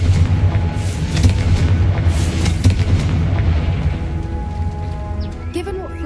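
A Confringo fire spell blasts in Hogwarts Legacy, a loud, deep booming explosion with a rumbling tail that holds steady for several seconds before fading under lighter game sounds.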